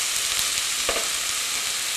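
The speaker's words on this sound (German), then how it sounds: "Und wie lange bleiben die Zwiebeln in der Pfanne?" Continuous close sizzling of onions frying in a hot pan, a steady hiss with an occasional stir scraping through.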